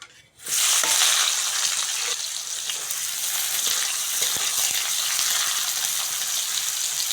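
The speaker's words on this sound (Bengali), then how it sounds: "কড়ার মধ্যে আরেকটু সর্ষের তেল দিয়ে দেবো ওই তেলের মধ্যে কুচনো পেঁয়াজ দিয়ে দেবো" Chopped onions hit hot mustard oil in a wok with a sudden loud burst of sizzling that settles into a dense, steady hiss, close and without voices, with a few faint clicks of stirring.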